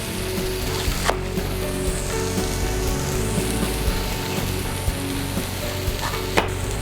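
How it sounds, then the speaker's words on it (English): Butternut squash sizzles and fries in a pan as it caramelizes, a steady crackling hiss broken by occasional clacks of utensils being stirred against the pan. "Basically, we're just looking for a nice caramelized coloring on all the sides of the butternut squash"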